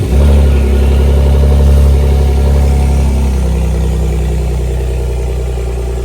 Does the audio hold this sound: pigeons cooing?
no